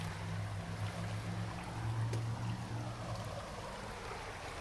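Small waterfalls spilling into a creek make a steady broadband rush of flowing water, continuous and fairly close, with a low droning hum running underneath for most of it.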